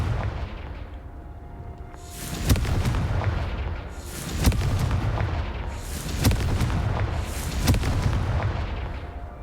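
Fire blast spell in Hogwarts Legacy, a series of four loud, booming explosive bursts spaced about two seconds apart, each with a sharp crack followed by a rolling, crackling fiery roar that fades before the next.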